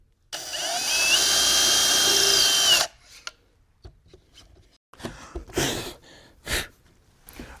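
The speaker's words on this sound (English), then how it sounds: "so that's the main counterbore." A loud, steady power drill runs for a couple of seconds drilling a counterbore hole in wood for an end table, and stops, followed by scattered handling clatter and light rustling.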